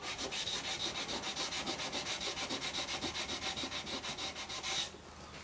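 Wood marker pen stain being rubbed off a caravan's wooden surface, a fast regular back-and-forth scrubbing with about five strokes per second, close and steady, stopping abruptly near the end.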